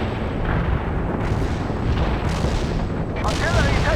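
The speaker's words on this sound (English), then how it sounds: "Artillery taking heavy fire." Dense, rumbling artillery fire from the Soviet assault campaign of the World in Conflict strategy game, with booms and explosions rolling together continuously under radio-style battlefield voices.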